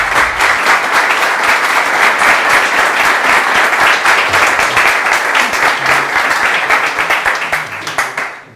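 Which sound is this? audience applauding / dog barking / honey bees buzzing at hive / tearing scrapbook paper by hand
audience applauding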